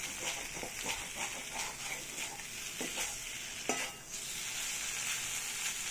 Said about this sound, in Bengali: কুমড়োটাকে ভাজা ভাজা করে দিয়েছি। এই যে জল ছাড়া একদম ভাজা ভাজা করে দিয়েছি।